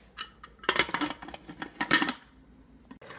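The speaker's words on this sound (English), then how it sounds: "I'm gonna put the lid back on my pot" A metal lid set back onto a cooking pot of Portuguese chouriço with sweet peas, a cluster of close clattering clinks and scrapes, then a final sharp tap after a pause.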